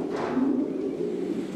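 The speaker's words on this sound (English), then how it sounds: "you can see here how Stefan keeps the pigeons" Pigeons in a loft let out a soft, low coo close by over a constant murmur of background noise.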